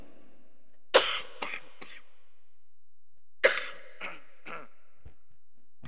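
Two bursts of harsh coughing, each a quick cluster of three or four coughs, separated by a pause, close and fairly loud.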